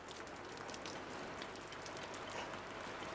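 Steady rain falls in a dense, even patter with no breaks, faint and distant, with no voices over it.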